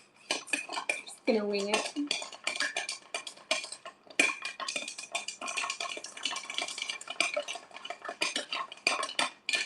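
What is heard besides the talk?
stirring a Rob Roy cocktail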